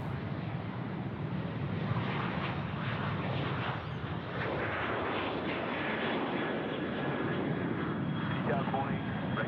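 A fixed-wing airliner landing at Sydney Airport, a steady broad jet engine roar that stays fairly even throughout, heard from a spotting position with faint radio chatter underneath.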